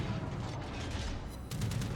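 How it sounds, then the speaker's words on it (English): Anti-aircraft guns on a warship in World of Warships fire continuously at attacking planes, a dense rumbling barrage of rapid gunfire under steady battle noise. "And I'm still shooting down those planes."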